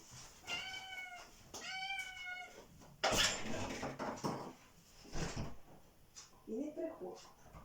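A house cat gives two clear, drawn-out meows close by, followed by clattering and rustling noises and another short cry, while someone talks between the sounds.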